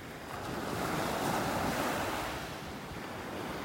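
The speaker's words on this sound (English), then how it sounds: "Some little waves breaking on the shore." Small waves breaking on a sandy beach shore at Delnor-Wiggins Pass State Park in North Naples, Florida, a steady close wash of surf that swells and eases, with wind noise on the microphone.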